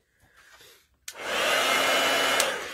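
A heat embossing tool blows hot air in a sudden, loud steady whoosh that starts after a second of quiet rustling and keeps going to the end, close by with no talking.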